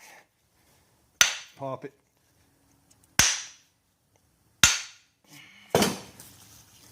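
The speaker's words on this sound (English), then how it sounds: "to loosen this up, just take a hammer" Four sharp, separate hammer blows ring out on a truck's front axle shaft U-joint on a Dodge Ram 2500/3500 with a 6.7 Cummins, each a loud metallic crack spaced a second or two apart, with brief metal rattles and a short spoken word between.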